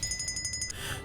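A security alarm in BioShock 2 Remastered rings in a fast, even run of bright electronic pulses, then cuts off into game background noise.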